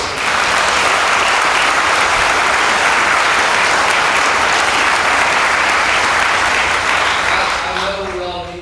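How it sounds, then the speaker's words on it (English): A crowd at a Flagler County town hall gives a loud, sustained round of applause honouring those serving in uniform, thick and continuous before a voice returns near the end. "Let's give a round of applause to everybody who's serving."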